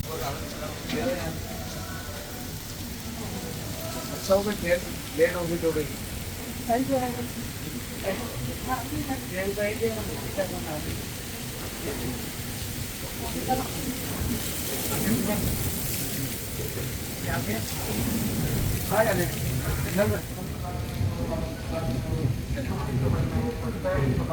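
Heavy monsoon rain pours at Dadar station in Mumbai beside the 12901 Gujarat Mail, a dense, continuous hiss and patter that fills the scene while people talk over it.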